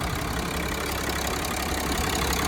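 A Mercedes Sprinter 516 fitted with a 3.2 OM648 diesel engine idles steadily and loudly throughout, a constant low rumble with a slightly rough, knocking texture and no voices.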